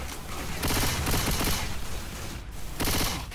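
Rapid automatic gunfire from the video game Left 4 Dead 2 fills the clip with dense, continuous bursts of shots, loud and up front, with a brief easing in the middle before the firing swells again.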